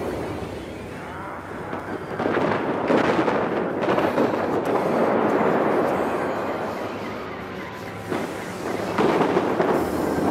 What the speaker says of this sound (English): Set fire mode to full auto.